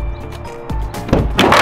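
A car door being opened during a race car build, with a couple of clunks and thuds and a rising rattle of handling noise, loud and close with no talking.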